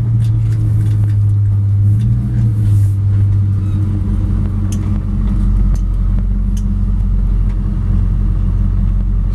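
A 1957 Chevy 210 post car with an LS-1 engine swings through a U-turn, its V8 holding a loud, steady low rumble close by with slight rises in revs and no talk.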